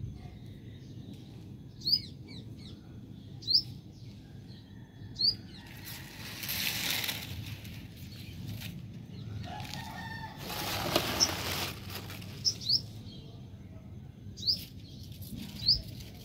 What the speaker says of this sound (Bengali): সকালবেলায় পাখির কিচিরমিচির শুনতে এত ভালো লাগে